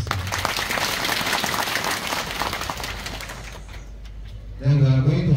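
An audience claps for a guest of honor at an occasion, a dense burst of applause that gradually thins out, and a voice then speaks over the fading claps.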